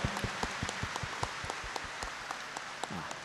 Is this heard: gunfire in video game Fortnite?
no